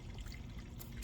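Distilled water trickles and pours quietly into the coolant system of a 2001 Mercedes E320 during a flush, a soft continuous liquid stream with a couple of brief brighter splashes.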